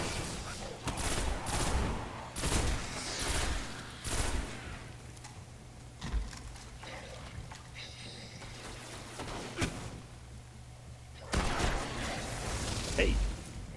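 Shotgun fire in the Destiny video game, several heavy booming blasts spaced irregularly through the scene, some paired close together, mixed with game noise and occasional talk.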